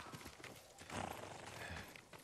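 Rhythmic clip-clop of horse hooves trotting in the video game Ghost of Tsushima, fairly quiet and steady, with faint ambient background.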